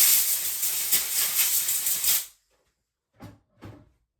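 A compressed-air blast hisses loudly and steadily for about two seconds to clear debris off a Husqvarna chainsaw oiler, then stops, followed by two short soft knocks.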